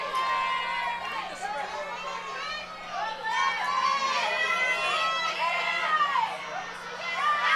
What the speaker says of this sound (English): Lots of cheering, trying to make sure the energy is high to start this one